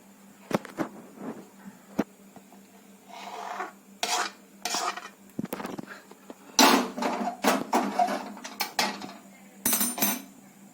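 Thick cooked mango juice syrup is spread across a plate, heard as close, irregular bursts of a spoon scraping and rubbing against the plate with short clinks between them.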